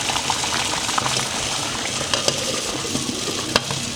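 A pot of LECA clay balls boiling in water, giving a loud, dense, continuous bubbling roar with occasional sharper pops, close and steady throughout.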